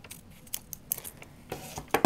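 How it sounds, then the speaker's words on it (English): Scissors snip through a 1.5-inch-wide ribbon for a pinwheel hair bow, producing a few sharp, close metallic clicks and cuts scattered over two seconds, quiet between them. "So I'm gonna cut another piece."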